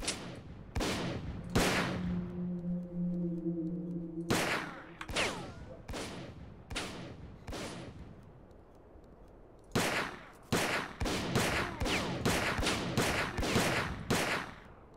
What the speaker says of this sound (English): Which is why I'm going to use a pistol.